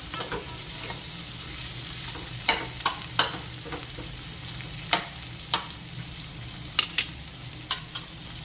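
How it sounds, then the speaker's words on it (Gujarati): Ginger and spices for paneer butter masala are stirred in a pan, a steady sizzle broken by irregular sharp scrapes and clacks of the spoon, close and moderately loud with no talking. "હવે આ રીતે બધું મિક્સ કરી લઈશું"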